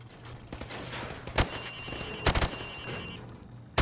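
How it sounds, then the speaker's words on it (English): Rifle shots fired from the hip on a training range in Call of Duty: Modern Warfare Remastered, a few sharp single cracks spaced apart over low background hum. "Now, shoot at the targets while firing from the hip."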